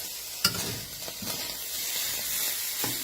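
Fish roe dry-roasts in a hot pan, a steady close sizzle and hiss with several scraping stirs, one sharp knock near the start and occasional clatters, no voices.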